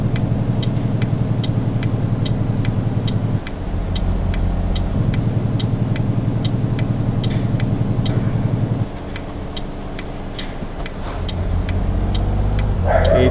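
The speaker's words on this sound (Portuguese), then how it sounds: "Freio motor." A truck in Euro Truck Simulator 2 runs on its engine brake on the road from Sorocaba to São Paulo, a deep, steady engine drone with low shifts in tone under a regular ticking that repeats throughout.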